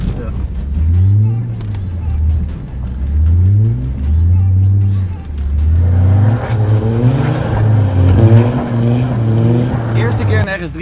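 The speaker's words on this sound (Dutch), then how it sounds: "Ga ik met mijn auto nog een rondje doen." A car, an Audi A3, drives with repeated revving as the engine rises and falls in pitch in a steady rhythm, loud and close, with people talking over it.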